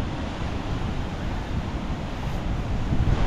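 Strong ocean waves breaking on a shore in Kuwait, a continuous broad wash of surf mixed with gusting wind buffeting the microphone, swelling slightly louder at the end.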